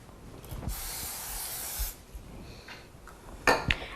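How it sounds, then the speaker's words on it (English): A can of non-stick cooking spray hisses steadily for about a second and a half into the bottom of a preheated countertop cooker, followed by a few soft clicks and clinks. "We're going to give it a little spray of non-stick in the bottom."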